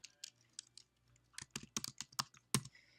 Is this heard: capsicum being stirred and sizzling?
no